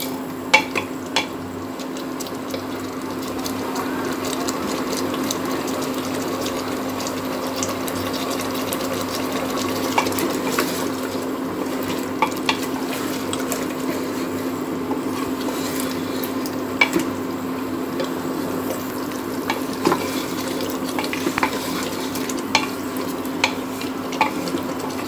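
Beef with potatoes and pointed gourd stir-frying in a thickened gravy, a steady close bubbling sizzle with scattered clicks of stirring running evenly throughout, with a low constant hum underneath.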